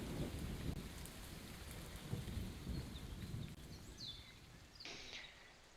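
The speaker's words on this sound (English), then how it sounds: "Eventually, you guys don't hear the storm as much." A steady rainstorm hisses across the whole scene with low rumbling thunder underneath, fairly faint and continuous, with no voices present.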